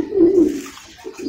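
A Netherlands-bloodline racing pigeon gives a short, close, throaty coo, one strong low call followed by a fainter trailing murmur.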